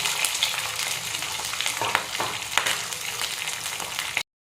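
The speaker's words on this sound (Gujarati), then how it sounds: "તો જો અહીંયા આપણું તેલ થઈ ગયું આપણે નાખશું વટાણા અને તુવેર બંને ભેગા" Green peas and pigeon peas hit hot oil with a dense, close sizzle and crackle, interrupted by a few stirring scrapes, and the sound cuts off abruptly at the end.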